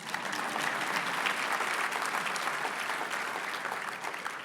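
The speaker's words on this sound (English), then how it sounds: "Applause, please." Sustained applause from an audience at the Urban League's annual dinner, many hands clapping in a dense, even roar that holds steady for several seconds without any speech.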